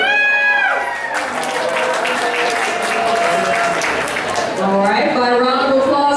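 Wedding reception guests break into loud applause mixed with whoops and cheering voices, a close, steady roar of clapping that swells again near the end.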